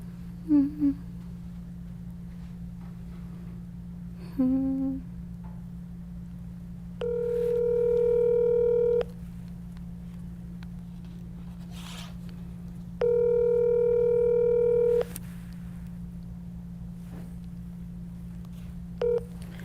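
A few short dial-tone beeps from a telephone keypad, then two long ringing tones with pauses between them, all over a steady low electrical hum.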